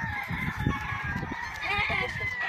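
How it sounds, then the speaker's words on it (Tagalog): A packed chicken coop fills with dense, continuous clucking from many hens, and a rooster's crow cuts through the nearby flock noise. "ang dami namang manok."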